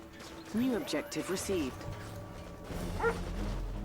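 Military attack dogs in the strategy game Red Alert 3 bark in several sharp yips through the first second and a half, then give one more bark near the end over a low game backdrop.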